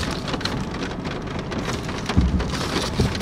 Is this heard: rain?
yes